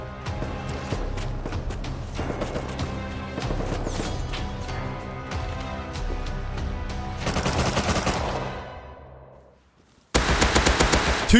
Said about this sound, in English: After securing our first gun, I wanted to go investigate some M249 shots.